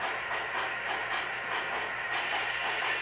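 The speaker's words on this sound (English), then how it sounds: "Now the train actually runs beautifully." An MTH HO scale Big Boy model locomotive runs steadily on a layout, a continuous close whirring hiss with faint rhythmic clicking of wheels over track and no voices.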